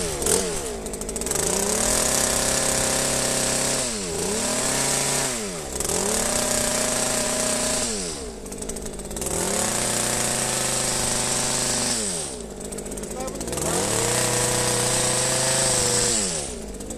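A hedge trimmer cuts along the edge of a hedge, chamfering it on a downward angle: a loud, close buzzing motor that revs in repeated bursts about every four seconds, dipping between passes, with no talking.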